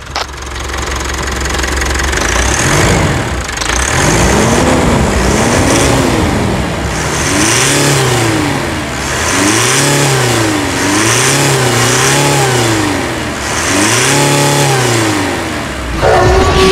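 A 2017 Mitsubishi Triton with a 2.4 diesel engine idles with a knocking rattle, then is revved repeatedly in rising and falling bursts. Each roar drops back toward idle, and the engine is loud and close throughout.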